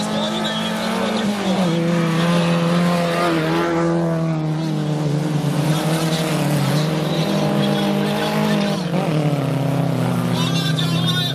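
Autocross race cars, including a Volga with a 2.5-litre engine, roar continuously on a dirt track, engines straining and shifting pitch as they pass, loud and close, with a commentator talking over them.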